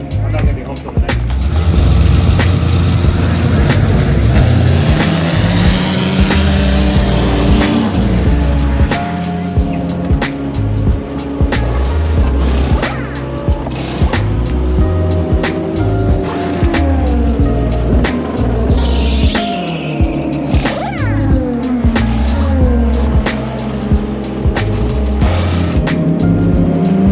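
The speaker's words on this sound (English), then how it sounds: "you can do a pan shot through the trees as the cars come past" Race cars at the Road America track roar past through the trees, engine notes rising and falling as they pass, with people talking over the noise.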